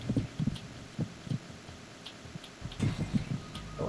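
Steady, muffled heartbeats thump in a repeating double-pulse rhythm in the stealth video game Metal Gear Solid 2, set in the Shell 1 core, close and moderately loud over a low ambient hum with no talk.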